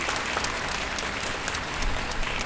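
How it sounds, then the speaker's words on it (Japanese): A concert audience applauds warmly at a New Year's show with military and police bands, steady dense clapping from many hands filling the hall. "とても温かい拍手をいただきました"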